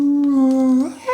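A human voice imitating a quiet wolf howl, one sustained steady tone held nearly a second, then sliding and breaking off near the end.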